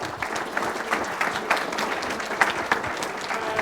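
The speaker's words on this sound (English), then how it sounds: "please join me in giving a round of applause" A room of attendees at a university data science day claps together after a session, dense and sustained applause with scattered louder individual claps throughout.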